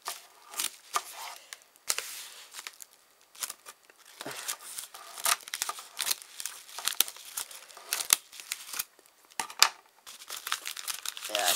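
Scissors cutting open a Game Boy game package, with crinkling plastic and paper, irregular snips and rustles, close up, under intermittent talk.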